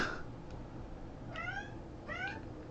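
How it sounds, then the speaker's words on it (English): A house cat gives two short, high, fairly faint meows about a second apart over a low, steady background hum. "And my cat is singing."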